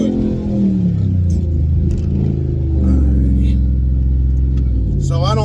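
A Whipple-supercharged 392 Ram truck with traction control off roars through a second-gear launch, its loud low engine drone rising and falling as it revs, with people talking over it.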